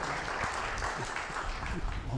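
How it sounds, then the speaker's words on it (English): Conference attendees applaud in a hall, with steady, moderately faint clapping and crowd murmur under it. "round of applause for Frank Russo, guys."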